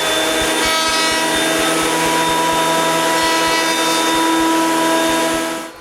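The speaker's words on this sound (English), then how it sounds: "I start with the jointer." A jointer planes wood in a workshop with a loud, steady machine whine and strong harmonic hum, joined by regular rhythmic thumps from the cutterhead that continue for several seconds before fading at the end.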